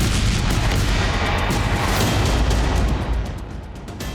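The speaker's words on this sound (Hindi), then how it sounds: "तस्वीर से जाहिर हो रहा है कि काखोव्का में जोरदार धमाका हुआ है" A powerful explosion in Kakhovka, a loud, sustained rumbling roar of blast and broadband noise that fills the clip and eases off slightly near the end, with no voices.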